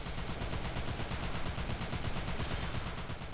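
Rapid automatic gunfire in the video game Dirge of Cerberus, a dense, steady stream of shots that is loud and continuous throughout, with no voices.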